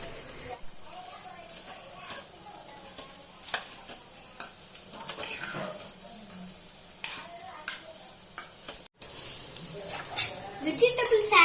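Cut vegetables with salt and pepper sautéing in a pan for homemade pizza topping, a soft sizzle with intermittent scraping stirs and clinks, while a person talks throughout.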